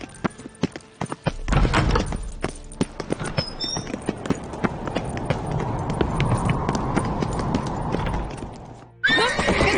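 Horses in The Witcher 3 gallop with rapid, rhythmic hoofbeats under a continuous rumble, and a horse whinnies loudly; the gallop carries on steadily before cutting off near the end.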